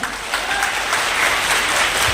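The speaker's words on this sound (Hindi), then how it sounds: "आप अपनी तालियों से मुझे बता दें कि आप मुझे सुनना चाहते हैं" Audience applause at a national voters' awareness festival held at an Ayurvedic college in Udaipur, Rajasthan: a dense, steady wash of many hands clapping together, moderately loud and continuous throughout.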